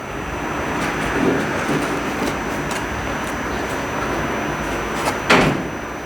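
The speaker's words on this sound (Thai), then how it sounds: "น้องต้องปิดประตูให้แม่ให้สนิทนะลูกนะ" A door at home is pushed shut with a single dull thud near the end, set against steady, hissing background noise.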